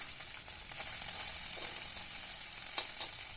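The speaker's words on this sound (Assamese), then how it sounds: "তাৰ বাবে মই কেৰাহীখন পাতি দিলোঁ আৰু তাতে পিঁয়াজ দি দিছোঁ" Onions frying in oil in a kadai as the start of a peas curry, giving a continuous close sizzle with small crackling bursts, no voices.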